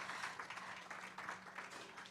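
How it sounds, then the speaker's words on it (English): Faint, distant applause from a mental health symposium audience, a steady wash of many hands clapping alone for a couple of seconds. "give you all yourselves a round of applause"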